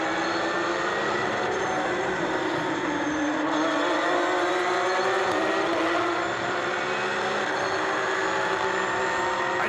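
From inside the cockpit of the number 28 Porsche GT3 Cup race car at Trois-Rivières, the engine roars loud and continuous, its pitch sweeping up and down through gear changes and braking.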